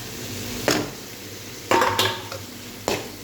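Prawn noodles being stirred with their masala seasoning in a pan: a low steady sizzle broken by several sharp scrapes and clanks of a utensil against the pan, spaced irregularly.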